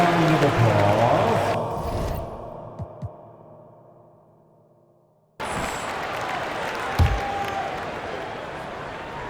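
A crowd in an NBA 2K25 basketball arena applauds in a broad, steady roar that drops out for a few seconds, then swells back in at full strength.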